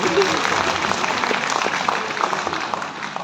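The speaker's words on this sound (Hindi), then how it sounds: "तो स्वागत करूंगा जोरदार तालियों से" A large audience at a learning meetup event applauds loudly to welcome a speaker on stage, a dense, sustained wash of clapping from start to finish.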